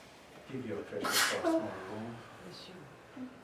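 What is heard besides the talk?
sneeze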